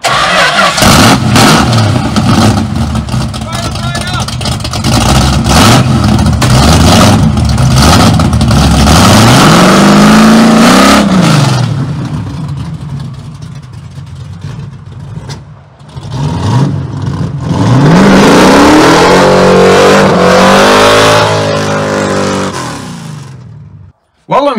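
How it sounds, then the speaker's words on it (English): A car engine on a Wreck Runner, sitting for a few days and primed with the accelerator pump, cranks and catches, then revs loudly in repeated rising and falling bursts, with a short pause before a final roar. "So hopefully it fires right up. I'll give it a couple of pumps of the accelerator pump, ignition,"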